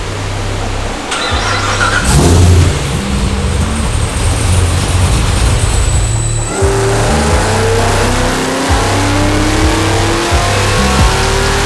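A Cadillac CTS-V3 running on pump gas revs hard on a dyno: a loud, close engine catches, then climbs through rising revs with a sustained roar and a brief falling whine before easing back.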